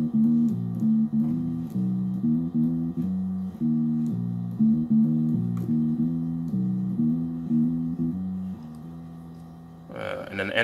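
A bass guitar plays the intro of a gospel song, a steady run of low plucked notes with a clear melodic line, alone and close, with a brief noise at the very end.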